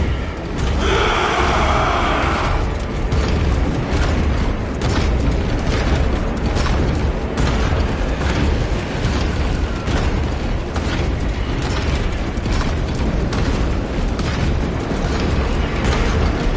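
Artillery fire in the video game Space Marine 2 makes a dense, continuous roar of booms and blasts, with mechanical clanking layered over a constant loud barrage.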